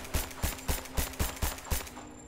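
Seven evenly spaced gunshots fired by Lara Croft in Rise of the Tomb Raider, sharp, moderately loud cracks in a steady rhythm about a quarter second apart, with no talk over them.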